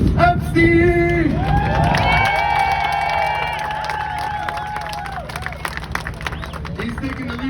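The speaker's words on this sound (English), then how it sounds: "I want you, in a big hand of applause, we have Mr. Morris Epstein!" Crowd cheering and clapping at a pro-Trump rally in Miami, a loud continuous roar with shouts and whistle-like tones riding over it as a guest is introduced.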